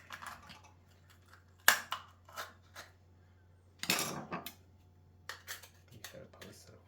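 An oyster shell is pried open with a screwdriver at home, giving scraping, crunching and clicking bursts of shell against metal, fairly close and quiet, spaced irregularly over a low steady hum.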